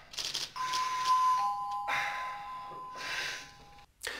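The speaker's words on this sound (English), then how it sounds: "the opening bars of Beethoven's Fifth are heard as the doorbell to the writer's house" A doorbell chiming the opening bars of Beethoven's Fifth at a writer's house in the film A Clockwork Orange, a clear ringing tone sounding twice in sequence amid soft breathy background noise.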